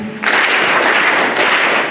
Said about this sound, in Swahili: Naomba wasimame. Makofi matatu.